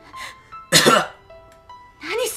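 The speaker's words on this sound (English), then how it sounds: "I've got a cough. No, it's just because I got water down my wrong throat" A sharp cough from water going down the wrong way, one burst standing out between quieter voices, with speech around it.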